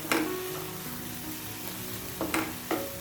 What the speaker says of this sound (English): Properly frying is very essential.